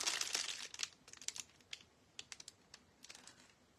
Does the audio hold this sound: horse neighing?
no